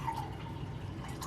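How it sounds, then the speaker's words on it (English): A drink poured into a glass, giving a short, close trickle and splash of liquid lasting about a second, heard on its own. "maybe I shouldn't pour such a big glass every time"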